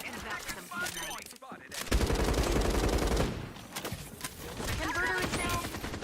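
Rapid automatic gunfire in the video game FragPunk rattles in a dense burst aimed at the player, with scattered shots before and after, mixed with game sounds and a talking voice.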